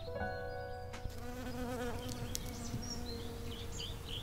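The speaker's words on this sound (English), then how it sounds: "I just heard a bee" A bee buzzes steadily close by in a driveway container garden planted with tomatoes, peppers, garlic, sweet potatoes, sweet Annie and basil, its drone continuing unbroken for several seconds over soft outdoor background sound.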